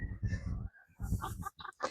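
A white hen in a farm coop clucks nearby in several short, uneven bursts separated by brief pauses, loud and close.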